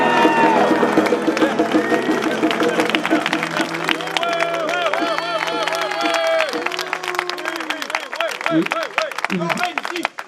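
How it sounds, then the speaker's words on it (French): Applause from an audience at an economists' gathering, with clapping and crowd noise rising over loud music and voices before thinning toward the end. "on les applaudit"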